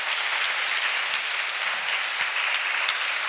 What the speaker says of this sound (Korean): 그래서 박수도 해주시고요